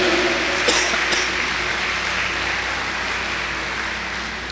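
Sustained applause from a church congregation, a dense and even wash of clapping that holds at steady loudness throughout and then slowly thins slightly.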